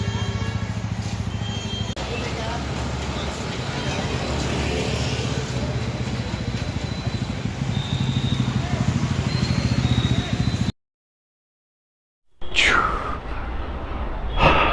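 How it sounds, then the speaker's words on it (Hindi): Stock-exhaust motorcycle idling and running steadily during a short showroom test ride, a continuous low engine drone close by, cutting out briefly near the end before resuming. "ये एग्जॉस्ट जो है स्टॉक एग्जॉस्ट है, साउंड भी इसकी बहुत अच्छी आ रही है"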